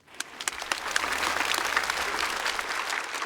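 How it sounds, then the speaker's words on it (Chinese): An audience at a stand-up comedy show applauds the performers, starting with a few scattered claps that quickly swell into sustained, dense clapping from a large crowd. "我们掌声给所有的演员"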